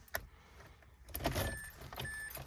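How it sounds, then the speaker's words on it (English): Keys jingle and scrape close by as a key slides into a car's ignition, with small clicks and faint cabin noise; the steering wheel is locked. "Let's go ahead and pop the keys in the ignition"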